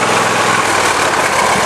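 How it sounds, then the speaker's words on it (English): A lawn mower engine runs steadily, close and loud, with a constant dense drone and no pauses. "Just letting the battery charge up on the mower a little bit."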